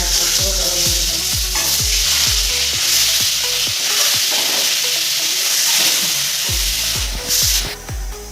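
Eggs fry in hot oil with a loud, steady hiss and sizzle, alongside rhythmic scraping and stirring strokes in a pan, close and without talk.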